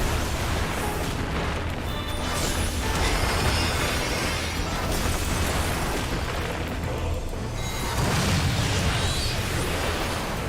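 Explosions during a Final Fantasy XIV Pandaemonium Savage raid. Layered booms and bursts sit over dense game effects and music, with louder swells around the middle and near the end.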